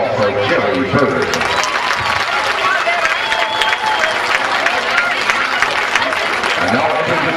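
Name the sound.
applause for Jerry Bird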